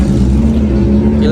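Ford Mustang engine rumbling close by at a supercar gathering, a loud, steady low growl, with voices chatting over it.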